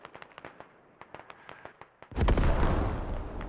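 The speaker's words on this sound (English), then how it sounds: "Artillery's coming in on defense." In the video game Squad, a rapid series of distant sharp cracks is followed by a heavy, rumbling artillery impact that booms and lingers for over a second.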